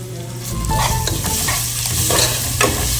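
Chickpeas (chana) heating in a pan for gravy sizzle steadily while a spoon stirs and scrapes, producing several distinct clatters over a constant frying hiss, close and fairly loud.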